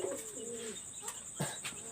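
High flyer pigeons coo in a few low, soft rolling calls close by, with faint chirps and a brief flutter in the background and no talk.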